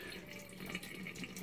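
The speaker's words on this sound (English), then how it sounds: "you can hear the water dribbling, and what's happening, it's leaking out this valve here" Water dribbling from a leaking valve on an electric unvented hot water cylinder, a close steady running trickle like a faucet, faint and continuous without speech.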